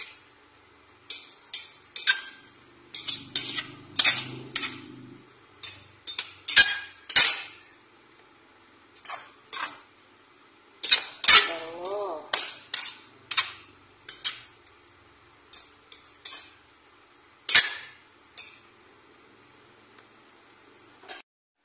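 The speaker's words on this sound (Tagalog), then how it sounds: "Haluin po natin ulit." Stirring chopped sayote (chayote) with corned beef in a pan, a spoon scraping and clinking against the metal in irregular bursts separated by quiet pauses, close and fairly loud, with no talk.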